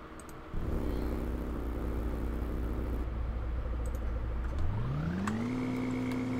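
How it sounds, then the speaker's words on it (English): A car engine in the Roblox game Welcome to Bloxburg starts with a sudden steady hum, then rises in pitch as it accelerates and holds a higher, even drone, with no talking. "All you're gonna hear is my car,"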